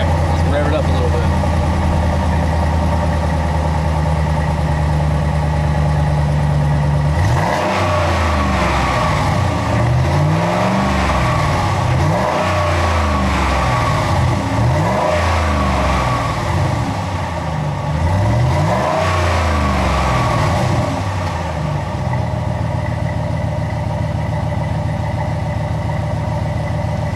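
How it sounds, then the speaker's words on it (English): A Ram pickup truck with a Flowmaster Flow FX muffler idles, then revs repeatedly in several rising and falling bursts of deep exhaust roar before returning to a steady idle. "All right, let's rev it up a little bit."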